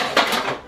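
A metal frying pan is dropped into a kitchen sink, one brief clattering clank with a short ringing tail, close and alone.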